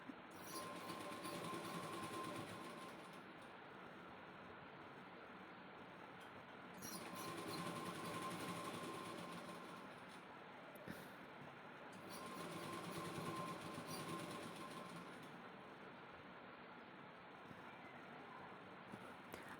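A sewing machine runs steadily, double stitching a cotton kurti sleeve, with a low continuous mechanical hum that swells and eases in slow waves, fairly quiet and even throughout.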